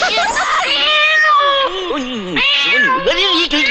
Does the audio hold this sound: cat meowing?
yes